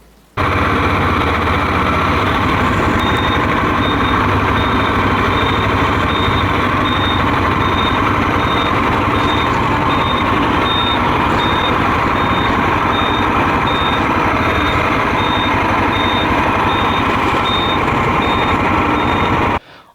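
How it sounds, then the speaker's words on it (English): The indicator relay beeper on a motorbike sends a steady series of evenly spaced high beeps over loud, constant engine and wind roar while the bike is ridden, with the beeping continuing throughout. "I deliberately left my indicator on, and you can hear the beeper even with wind and engine noise"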